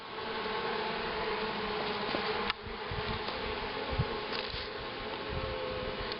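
Honeybees in an opened hive give off a dense, continuous buzzing hum, close and steady, with a few faint knocks from handling of the frames.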